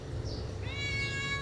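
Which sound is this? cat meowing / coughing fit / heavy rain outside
cat meowing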